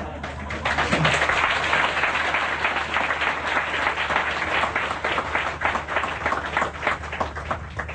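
Loud, dense applause from an audience at a spiritual talk, steady and sustained for several seconds with a rapid texture of many hands clapping at once, gradually thinning slightly toward the end.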